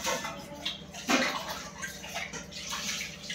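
Water running steadily from a tap filter at a rural home in the Sundarbans, a constant close splashing rush with a brief louder surge partway through and no talk.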